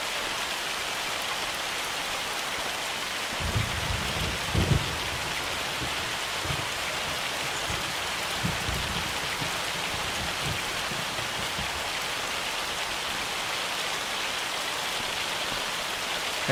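A hailstorm in the farming game Farming Simulator 25 gives a steady, dense hiss of falling ice and rain, with a few soft, low rumbles of thunder in the first half and no talking.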